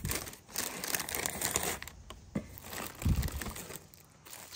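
Crinkling and tearing of Thursday Boots shoe packaging as Aviator wingtip shoes are unwrapped, with close, busy rustling bursts and a few louder crunches, alone with no talking.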